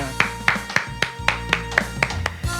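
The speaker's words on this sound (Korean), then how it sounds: "우리 하나님께 영광의 박수 올리겠습니다." A church congregation claps at the close of a Friday worship service: rhythmic, evenly spaced claps roughly every quarter second, close and fairly loud, with a faint musical tone sustained underneath.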